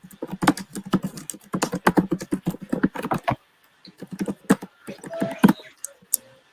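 Rapid, uneven clicking of keys on a computer keyboard, close and steady, continuing in bursts with a few brief pauses and no talking over it.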